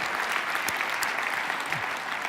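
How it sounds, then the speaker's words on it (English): Steady, dense applause from a large audience at a business keynote speech fills the room without a break, a warm wash of many hands clapping together at close to moderate distance. "Let's give Billy a round of applause for that change"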